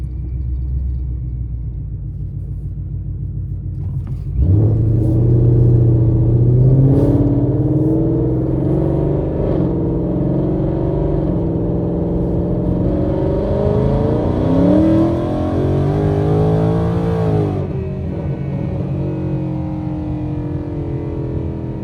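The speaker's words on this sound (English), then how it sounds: "So I did a very small pull there. I only put my foot down about halfway" A supercharged 2019 Ford Mustang GT V8 pulls at half throttle, heard from inside the car. A low idle rumble jumps into a loud, rising engine drone that climbs steadily for about thirteen seconds and then drops back to a cruising hum, with no talking.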